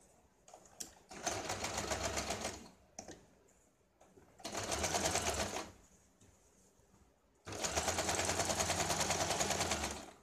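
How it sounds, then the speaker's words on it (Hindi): A sewing machine stitching along the edge of a blouse piece laid on canvas paper, running in three steady bursts of rapid whirring with short pauses between, close and fairly quiet, no speech. "अभी यहाँ पे हम सिलाई लगाते हैं।"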